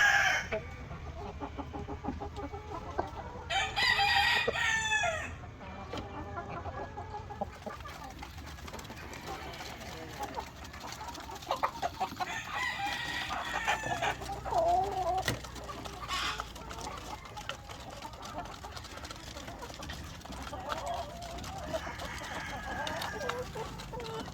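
Chickens cluck in a farm flock of about fifteen hens with a rooster, the clucking scattered and close, with a rooster crowing early on and occasional soft rustles between calls.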